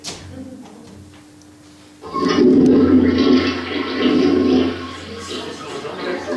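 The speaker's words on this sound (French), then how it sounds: "C'est la chasse d'eau." A toilet flush in an indoor setting: a sudden loud rush of water starts about two seconds in and roars steadily before tapering slightly, following a quieter stretch with a low hum.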